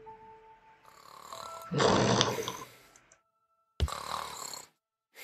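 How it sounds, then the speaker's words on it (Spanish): A character snores in The ABC Murders video game, two loud rasping snore breaths separated by a pause, over faint background game music. "A roncar. Eso es dormir bien y feliz."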